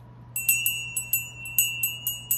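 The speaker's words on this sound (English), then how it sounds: "So I'm going to ring the bell." A small, tarnished bell rings repeatedly in bright, clear strikes, about nine rings with short decays, over a low steady hum.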